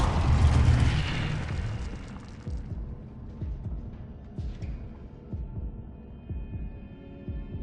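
The Incendio fire spell bursts out in Hogwarts Legacy as a loud whooshing blast that fades quickly, followed by a low, rhythmic throbbing pulse that continues steadily underneath.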